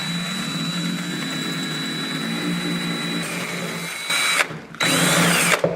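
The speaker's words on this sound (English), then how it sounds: "Now the drill bit will do the rest." A power drill bit grinds through glazed shower tile into the cement board behind it, a loud continuous high whine that stalls briefly near the end and then resumes, close up with no talking.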